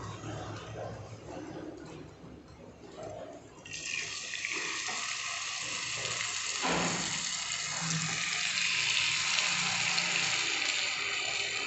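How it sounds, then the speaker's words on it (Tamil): Pieces of tandoori chicken hit hot oil in a pan and start to fry, quiet at first, then a loud, steady sizzle that swells and holds close up. "இப்போ இதை நம்ம ஃப்ரை பண்ணி எடுக்கலாம்."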